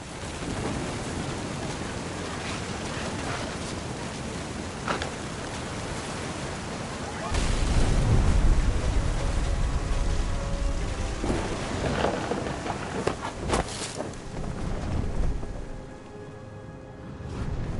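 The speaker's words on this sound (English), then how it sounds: "The thunder sounded much too close and full of angry power" Heavy rain pours steadily with rolling thunder surging loud and near midway in a video game storm, a deep rumble swelling over the constant downpour before easing.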